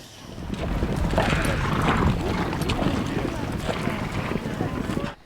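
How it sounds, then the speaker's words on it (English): A herd of about 500 horses charges out of a big holding corral to begin a long-distance horse drive, producing a rumbling mass of hoofbeats buffeted by wind noise, with voices mixed in before the sound cuts off abruptly. "The horses come charging out of the big holding corral, and the Great American Horse Drive is underway"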